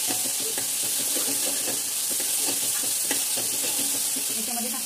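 Soy sauce and tomato ketchup in hot oil for cabbage manchurian sizzle steadily in a pan, with repeated close scraping and knocking from a stirring spoon and no speech.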